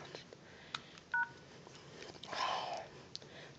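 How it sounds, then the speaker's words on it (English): A BlackBerry Curve 8330 phone emits a brief pair of button tones, with faint handling noise and a soft rustle around them. "Phone's pushing buttons."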